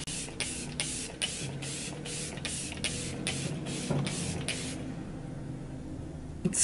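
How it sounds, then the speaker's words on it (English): Makeup setting spray misted in a fast series of short, close hissing bursts, about ten even pumps over four seconds, then quiet with a soft room hum. "It's super fine, which is why it looked like I sprayed a ton"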